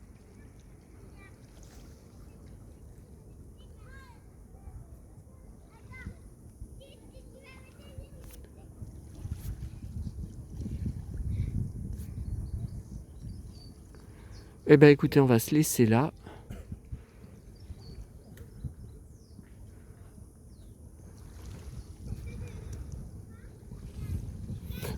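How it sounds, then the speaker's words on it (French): A boat passes alone on the sea at Sanary, a low engine drone swelling in the middle of the clip under wind, with someone talking quietly and a brief sharp knock partway through. "il y a tout le temps un bateau qui passe tout seul"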